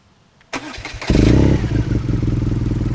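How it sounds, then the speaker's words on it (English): A scrambler motorcycle, either a Triumph Scrambler 1200 or a BMW R nineT Scrambler, cranks with a sharp thump and catches. It settles into a loud, close, bass-heavy throbbing idle. "let's start the engine"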